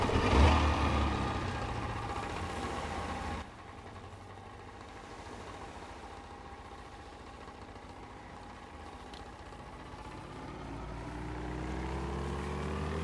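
A damaged boat engine runs in a survival video game set on a frozen island, a steady low motor drone that is louder at first, drops off, then slowly swells again, with no talking.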